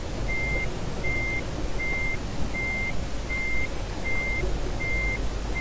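Evenly spaced reversing beeps repeat about every three quarters of a second over a low, steady truck engine hum in Euro Truck Simulator 2.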